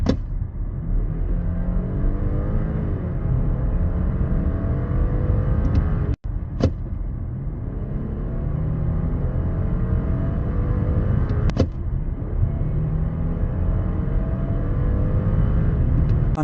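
A 2026 Audi A6 Avant hybrid accelerates, giving a steady low rumble of engine and road noise that swells under throttle, with brief clicks partway through.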